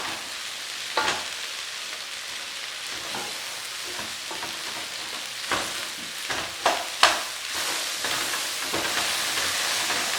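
Sausage, onions and vegetables fry in a pan for a sausage kale soup, giving a steady loud sizzle with occasional stirring scrapes and knocks, and no talk.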